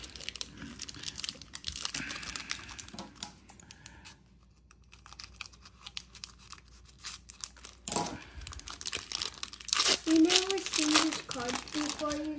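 A wild card football trading card pack being torn open and handled, with crinkling foil wrapper and shuffling cards, brief tearing bursts and a quieter pause midway, while a person talks intermittently.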